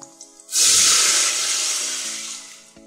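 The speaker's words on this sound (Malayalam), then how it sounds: "രണ്ട് കപ്പ് വെള്ളം ഒഴിക്കാം." Two cups of water are poured into a hot cooker over coconut oil and onion while cooking kudukachi biryani, giving a sudden loud hissing rush that starts abruptly and slowly tapers over about two seconds.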